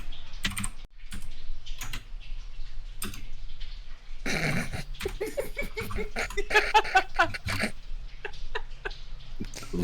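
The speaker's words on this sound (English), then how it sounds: "Listen, I'm typing around my mic." Computer keyboard typed on right beside the microphone gives bursts of sharp, close clicks separated by pauses, with some brief laughter and background sounds mixed in.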